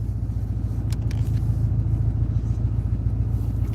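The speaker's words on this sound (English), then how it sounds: "I'm gonna start my car real quick." A car engine runs at a steady low idle, a continuous close rumble with a faint mechanical hum and no talking over it.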